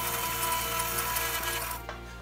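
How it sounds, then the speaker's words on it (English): A kitchen knife chops garlic cloves finely on a board, a rapid, close run of dense cutting taps that stops abruptly near the end. "Chop them up nice and finely"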